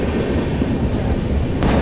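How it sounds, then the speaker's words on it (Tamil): A Chozhan superfast express train pulling out of Paranur railway station, its low rumble of wheels and carriages filling the clip steadily and close, growing slightly heavier near the end, with no voices. "இப்போ ட்ரெயின் ஸ்டார்ட் ஆகிடுச்சிங்க"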